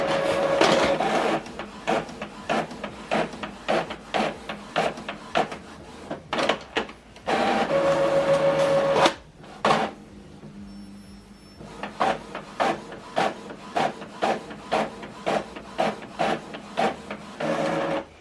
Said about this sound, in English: Now this document is going to print out.